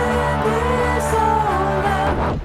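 A short excerpt of a 1993 song, a loud, dense rock mix with sustained distorted tones and a steady beat.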